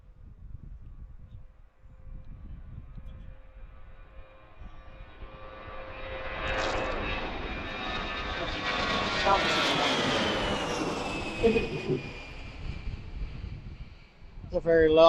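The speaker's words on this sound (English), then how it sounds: "It's a very loud Delta departure." Delta jet airliner departing Washington Reagan National Airport, its engine roar swelling loudly from a distant rumble to a close, broad peak before fading, with people talking over it.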